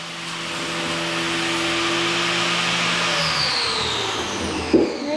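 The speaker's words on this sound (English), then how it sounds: "grinding his bolt down a little bit" A grinder working a bolt down in a dirt-track race shop preparing for World of Outlaws at Talladega Short Track, a continuous loud whine that holds steady for several seconds with a brief clank near the end.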